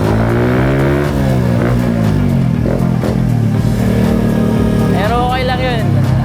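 Loud motorcycle exhausts rumble and rev nearby, a continuous throaty drone with rising and falling engine pitch, with voices talking over it at times.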